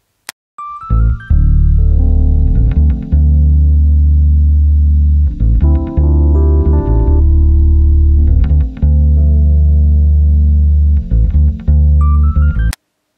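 A jazz beat mix built around an Arturia Stage 73V Rhodes: warm electric piano chords ring over a steady low groove, loud and full, with a few short pauses between phrases and no voices.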